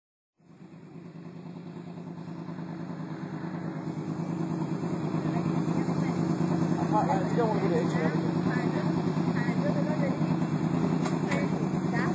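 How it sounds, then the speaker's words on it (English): A crossplane four-cylinder car engine sends out a steady exhaust rumble that starts abruptly and holds a continuous, loud drone throughout. "a Crossplane four-cylinder exhaust sounds like"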